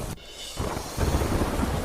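Heavy rain falls in Palanpur, Banaskantha, a dense close wash of downpour with low wind-like rumbling that thickens and grows louder toward the end.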